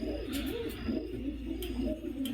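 Large blue black-chinned pigeons coo continuously in close, warbling rolls over a low steady hum.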